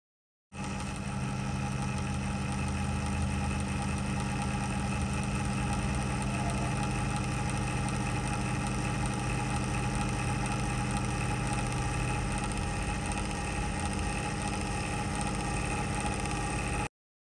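A PC power supply fan gives a steady mechanical hum with a rough, grinding texture, droning on continuously without pause, close and fairly loud, with no voices.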